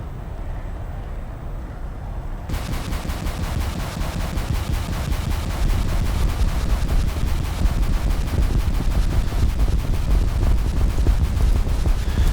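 In a video game, an IAR-93B aircraft fires its rocket pods at an enemy base: a rapid, steady stream of loud launches after a quieter start, continuing without a break, with no talking.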